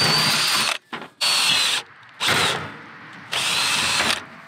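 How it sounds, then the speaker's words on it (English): A power drill whirs in several short bursts separated by brief pauses, close and loud, boring holes one after another while installing a generator power inlet box. "And I'm gonna drill the holes that I marked earlier."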